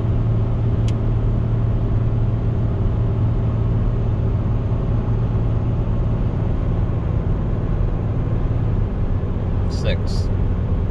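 A 2017 RAM 3500 with a Cummins diesel engine cruises while towing 30,000 lbs, its steady low engine drone and road rumble filling the cab continuously, with a brief higher tone near the end.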